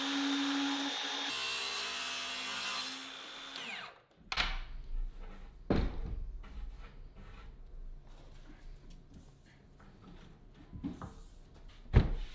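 A power tool whines loudly for about four seconds, trimming the back edge of 3/4 inch plywood in an old stone house, then stops, followed by wood knocks, handling clatter and scattered thumps nearby.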